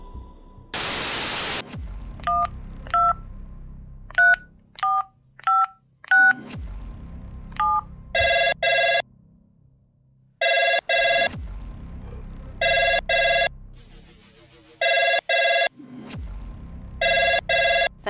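A burst of static, then a quick run of telephone keypad dialing tones, followed by repeated evenly spaced ringing tones on the line, clear and close with no talking.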